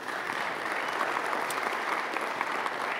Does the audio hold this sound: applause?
yes